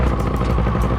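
Small two-stroke paramotor engine just pull-started, running close and loud with a rough, rapid clattering putter throughout.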